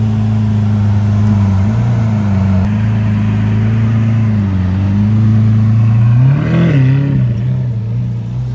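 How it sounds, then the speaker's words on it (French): A Lamborghini Aventador LP700 with a 6.5-litre V12 and rear wing rumbles inside a parking garage, its low engine tone steady and loud, then rising briefly in a rev near the end before settling back. "un Aventador LP700 V12 6 litres 5 avec un aileron"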